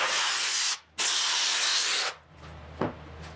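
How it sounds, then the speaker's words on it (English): Glue spraying from an aerosol can during soft top preparation on a 1980 Triumph TR7, two close, loud hissing bursts of about a second each separated by a short pause, followed by quiet handling noise and a faint knock. "I have to spray some glue here as well for this slip to stick"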